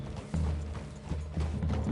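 Horse hooves clip-clop in a video game, a quick, even series of close hoofbeats over a low mechanical rumble.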